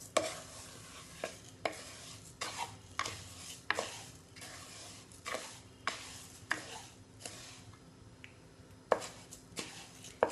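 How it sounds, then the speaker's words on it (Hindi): A spatula stirs sugar melting in a pan for a roasted chana dalia chikki. Steady, rhythmic scraping and clicking strokes repeat throughout over a faint sizzle, with no talking. "इसे हम कंटिन्यूसली मिक्स करेंगे, और इसको हमें छोड़ना नहीं है, क्योंकि चीनी जलने का डर है।"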